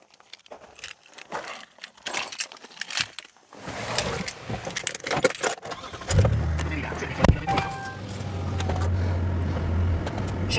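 Keys jangle and clatter close by beside a Hyundai Terracan 3.5L petrol SUV. The engine then fires and settles into a low, steady rumble that carries on to the end.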